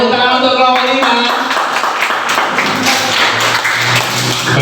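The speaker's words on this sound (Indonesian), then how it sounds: "Tepuk tangan untuk kelompok 5" Audience clapping for a presenting group in a classroom, loud close-up hand claps forming a brief, somewhat uneven round.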